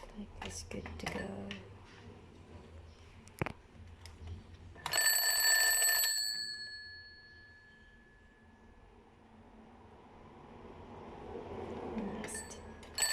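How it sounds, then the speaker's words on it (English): A repaired alarm clock gives a short metallic ring of about a second amid close handling clatter and quiet background noise, with soft sounds of movement before and after. "alarm clock is good to go."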